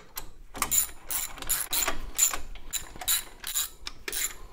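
Hand ratchet snugging up bolts on a 1929 Ford Model A, a run of quick clicking bursts in rhythmic strokes with short pauses between, close and fairly loud with no talk.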